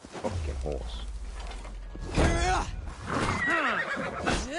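A horse in the game Assassin's Creed Valhalla neighs with shrill, wavering whinnies, two or three close calls mixed with hoof thuds, while someone talks over them.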